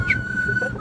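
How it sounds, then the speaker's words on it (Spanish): A person whistles a short, steady, clear tone, held briefly and close to the microphone. "Estoy silbando."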